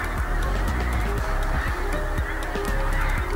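Many geese honk in a continuous, overlapping chorus as they fly over, calls rising and falling without any talking.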